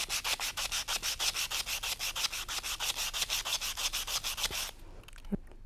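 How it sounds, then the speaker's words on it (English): Sandpaper scrapes a dull metal piece in rapid, even back-and-forth strokes, about four per second, close and fairly loud, then stops abruptly, leaving a faint tap. "Let me now scrape off one of the piece and let's see what happens."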